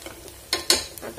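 Onion browning in a hot pan, a soft sizzle broken by a few quick, close scraping strokes of a spoon stirring it.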